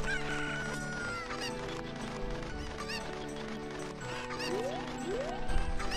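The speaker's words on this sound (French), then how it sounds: "t'as l'impression que les poules elles disent Covid quand elles font cote-cote." Chickens cluck and a rooster crows in a Zelda video game, The Missing Link, steady layered fowl calls over continuous game music, with no talking.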